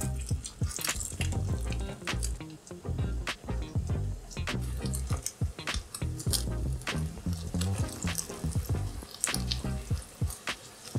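Egg-dipped aubergine slices fry in hot oil, a close, steady sizzle crackling with frequent sharp pops and spits, continuous for the whole stretch with no voices.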